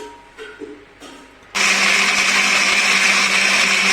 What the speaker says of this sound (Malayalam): നമുക്കത് മിക്സിയിലിട്ടിട്ട് ഒന്നടിക്കണം, കുറച്ച് വെള്ളം ഒഴിച്ച് അതിൻ്റെ ജ്യൂസ് നീര് കിട്ടാൻ വേണ്ടിയിട്ട്